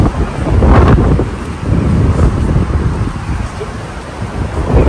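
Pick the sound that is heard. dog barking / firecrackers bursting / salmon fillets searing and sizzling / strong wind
strong wind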